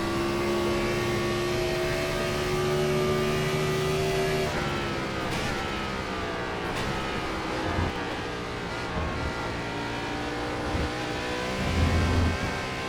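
Race car engine at Watkins Glen in the iRacing simulator, a sustained droning rev that shifts pitch midway as gears change, steady and fairly loud with tire and chassis noise underneath, no talking.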